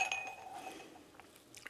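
Pencils clinking against a drinking glass, a light bright chime at the start that rings out and fades, followed by a few faint taps, quiet and close.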